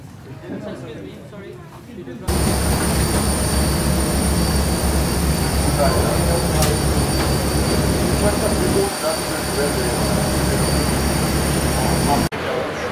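Airliner cabin on a long-haul flight, a constant loud broadband engine drone with a faint steady whine filling the space, starting abruptly after a quieter opening and cutting briefly near the end.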